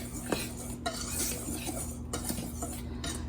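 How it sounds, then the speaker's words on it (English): Whisk clinking steadily against a bowl while gingerbread ingredients are mixed together, a continuous close scraping rattle with faint sharper taps, no talking. "And I'm going to whisk it together."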